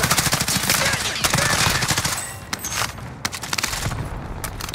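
Dense automatic gunfire from Call of Duty Modern Warfare crackles in rapid, overlapping bursts that stay loud and close throughout, with a few sharp single shots as the volley thins toward the end.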